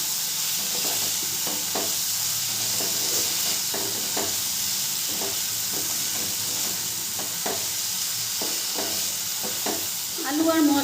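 Potatoes and spices fry in a hot pan, a continuous sizzling hiss broken by repeated scraping strokes of a spatula as the mixture is stirred, close and steady.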